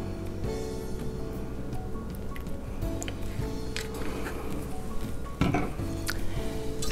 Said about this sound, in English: And you're just gonna stir it